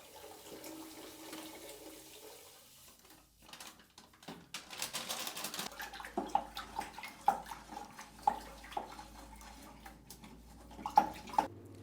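Water is poured while film developer chemicals are mixed, starting as a faint trickle, then a splashy pour with irregular sloshes and clinks toward the end, with no talking.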